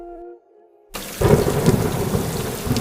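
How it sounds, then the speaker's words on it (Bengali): A cartoon sound effect of a thunderstorm with heavy rain. A brief tone fades out, then a loud thunder crack breaks into a dense, continuous downpour. "বাইরে প্রবল ঝড় বৃষ্টি শুরু হলো"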